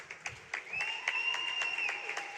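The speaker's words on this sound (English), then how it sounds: "And this one getting quite the round of applause." Spectators at a high school swim and dive meet clap after a dive, scattered claps that build into steady applause, with a sustained whistle-like tone above it in a reverberant pool hall.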